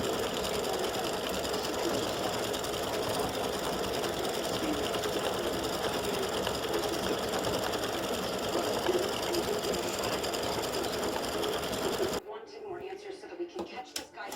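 An embroidery machine stitching the froth on beer mug earrings, a steady rapid mechanical whirr and tapping held for about twelve seconds before cutting off to near quiet.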